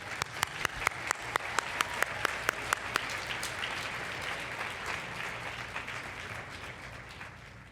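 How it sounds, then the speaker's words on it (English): Audience applause at a women's awards gala in Nanaimo: a steady wash of many hands clapping, with a few sharper individual claps standing out early on, sustained throughout at moderate distance without speech. "We're just going to give a round of applause"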